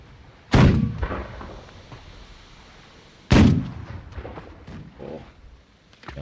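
Two heavy booms from a ship's cannon in the game The Last Leviathan, about three seconds apart, each a loud deep blast with a rumbling tail.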